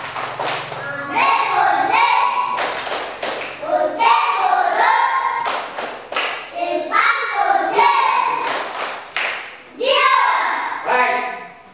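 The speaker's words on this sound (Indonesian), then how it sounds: "Kita tepuk diam" A first-grade class of children at an elementary school in Babahane performs a rhythmic 'tepuk diam' clapping routine, with bursts of claps and thumps repeating in patterned groups, mixed with children's voices chanting along throughout.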